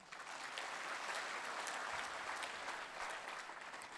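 Applause for teachers at a World Teacher's Day event: steady, even clapping from a sizable audience, continuous and quite faint, with no talking.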